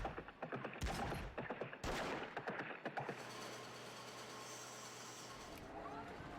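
Battle gunfire in the Victoria II strategy game, sharp bursts of rifle and volley shots crackling in rapid clusters for the first few seconds, then trailing off into a quieter low hum.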